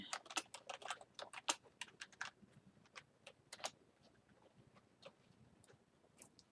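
A password is typed on a computer keyboard in a quiet room, a close, rapid run of key clicks that slows into scattered taps, with no talk.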